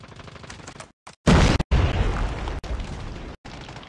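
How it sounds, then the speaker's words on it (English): Grenade explosion in the mobile shooter Call of Duty: Mobile on a multiplayer map, a loud broadband boom bursting in after a short gap and followed by a lingering rumble and further blasts and gunfire. "Grenade!"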